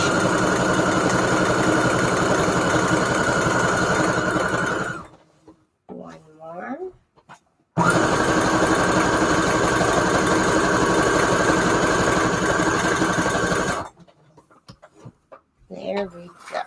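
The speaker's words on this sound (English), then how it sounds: "This is a great sewing machine." A sewing machine runs steadily in two long bursts of rapid mechanical whirring while sewing a paper junk journal, with short pauses between where a voice speaks briefly.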